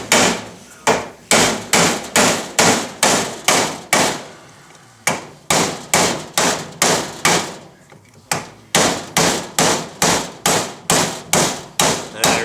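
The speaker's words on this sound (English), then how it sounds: "Just start beating the crap out of it." A hammer drives a wheel bearing out of the hub of a 2004 Polaris Sportsman 700 EFI ATV, with loud, evenly spaced metallic blows, about two a second, broken by two short pauses.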